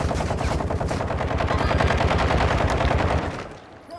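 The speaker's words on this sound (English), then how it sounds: "Damn, he's shooting up top." Rapid automatic gunfire in Call of Duty: Modern Warfare II, a loud, dense burst of continuous shots lasting about three seconds before cutting off, with no talk over it.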